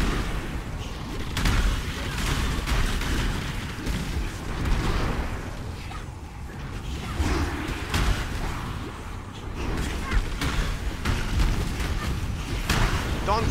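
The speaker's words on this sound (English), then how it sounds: "Avoid those explosions." Explosions in the action game Path of Exile burst in a rapid, dense barrage of booms and impacts that keep going almost without a break, loud and forceful, with busy combat noise layered underneath.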